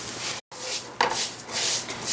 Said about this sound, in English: we're still gonna keep on frying this rice, and I'm gonna keep on moving it